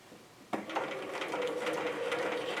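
A sewing machine stitching a zipper pouch starts with a sharp clack after a brief quiet moment, then settles into a steady, fast mechanical whir with a regular stitching pulse.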